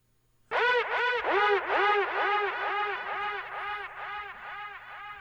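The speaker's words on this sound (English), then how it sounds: "there's a lot of reverb on that one." A repeating tonal pattern of swooping notes from Native Maschine 3 starts suddenly and pulses rhythmically, each note trailing into a heavy, washy reverb that gradually fades.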